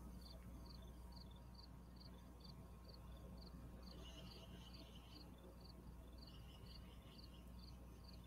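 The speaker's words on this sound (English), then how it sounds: "I hear crickets." Crickets chirp in steady, regular pulses over a constant low hiss and hum, faint and unbroken throughout with no voices.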